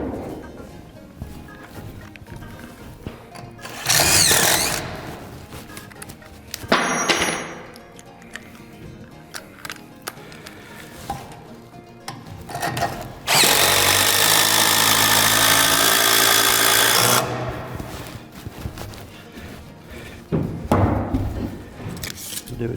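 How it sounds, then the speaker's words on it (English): A power drill pre-drills a hole for an 8-inch lag bolt while mounting a bracket for an overhead attic lift. It whines in a few short bursts and one long steady run, with talk between. "We're going to put our drill, and we're going to pre-drill our hole"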